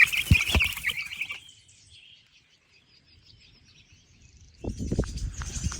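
Young chicks chirp in short, high bursts at the start and again near the end, with a quiet stretch between them.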